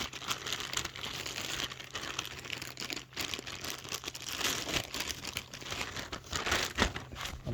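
Packaging crinkles and tears as it is ripped open during an unboxing, a close, busy run of crumpling and rustling with brief pauses.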